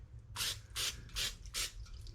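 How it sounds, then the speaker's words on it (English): Cooking spray hisses onto the top of a ball of bread dough in four short, evenly spaced bursts, close and fairly quiet, with no talking. "to keep a crust from forming, we want to take a little bit of cooking spray"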